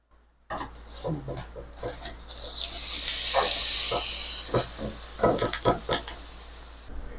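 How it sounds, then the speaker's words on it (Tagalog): Eggplant simmers in coconut milk in a pan, a steady steamy hiss and bubbling that swells in the middle, with scattered clinks of utensils against cookware nearby. "kumulo na tong talong"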